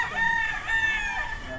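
A game-farm rooster, a brood cock kept with several hens, crows once up close, a loud ringing cock-a-doodle-doo that rises and wavers before trailing off.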